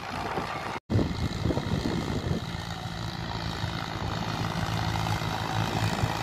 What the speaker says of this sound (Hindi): महिंद्रा ट्रैक्टर की आवाज़ बहुत ही शानदार है